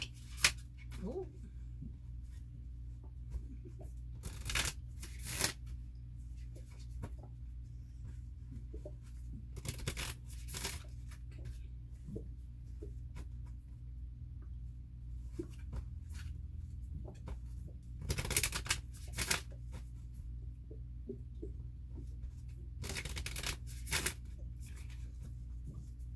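Tarot cards being shuffled and handled during a reading: soft, faint papery riffles and rustles come in several short bursts over a low steady background hum, with quiet gaps between them.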